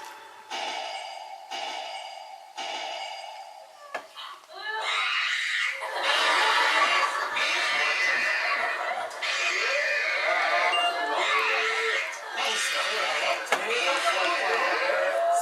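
A cat screams loudly at the vet after receiving an injection, a long, wavering yowl that starts after a short quieter stretch and stays loud and close, with voices talking faintly underneath.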